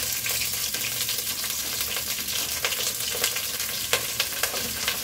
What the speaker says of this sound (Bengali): কাঁচামরিচ, এলাচি, দারচিনি, তেজপাতা সব দেওয়া হয়েছে, একসাথে ভেজে নিচ্ছে।